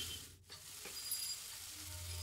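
Ginger paste frying in oil in a kadai with onion, giving a faint, soft sizzle and hiss with a light scrape or two. Nobody speaks.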